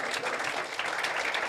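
A church congregation claps together in a continuous burst of applause, a thick crackle of many hands held at a steady level.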